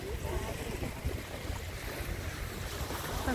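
Sea waves wash continuously onto the shore near Izmir in Turkey, a broad hiss and rumble of surf mixed with wind buffeting the microphone, steady throughout with no clear voices.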